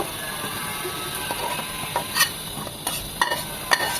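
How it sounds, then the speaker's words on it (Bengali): Hot spiced tempering poured over beef kala bhuna in a pan, giving a steady sizzle with scattered sharp crackles and a few louder bursts, close and alone. "এখন বাগারটা মাংস সহ ঢেলে দেব"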